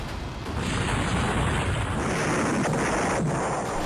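Missile strike explosions and artillery in news footage make a dense, continuous roaring rumble, loud and sustained with no clear gaps between blasts.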